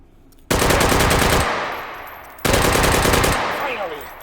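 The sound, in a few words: rifle gunfire from the video game H3VR, trigger held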